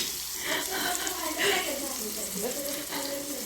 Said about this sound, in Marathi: तर आता कांदा चा छानसा परतून घ्यायचा आहे